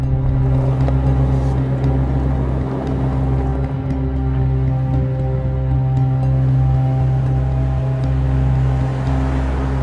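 A storm-chasing car's engine hums steadily and loudly at close range throughout, a continuous low drone with no clear pass-by, as the crew heads east away from an approaching tornado near El Reno.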